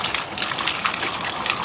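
Water gushing from opened faucets and a copper plumbing pipe, a loud, steady splashing rush close by, continuous with no talk.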